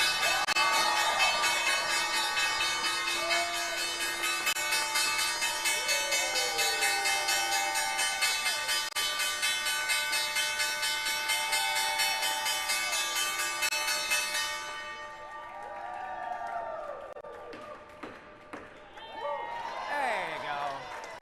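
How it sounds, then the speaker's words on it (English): A stock exchange closing bell rings steadily for many seconds over a noisy, cheering crowd, then stops as the crowd noise and voices continue. "Time now for the Nixon closing bell"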